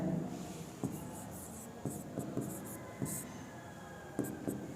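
Pen or marker writing during a math lesson on percentages, with scattered scratchy strokes and taps at close range over background noise, and no talking.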